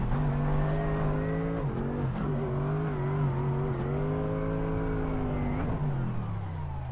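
A Corvette C5 drift car engine in the video game Assetto Corsa drones loudly and continuously, its pitch dipping and climbing as it shifts and revs, with no talking over it.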